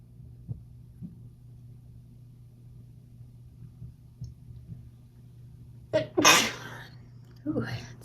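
One loud, close sneeze bursts out near the end of a quiet meditation setting with faint background hum, followed shortly by a brief breathy sound.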